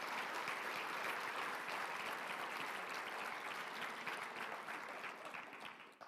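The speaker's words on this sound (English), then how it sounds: "Love to give you a round of applause." A crowd applauds steadily for several seconds, dense clapping that fades slightly at the end.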